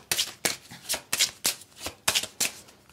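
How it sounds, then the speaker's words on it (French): Tarot cards being shuffled by hand in a rapid run of crisp riffling bursts, close and loud, with no talking. "On va prendre une deuxième carte."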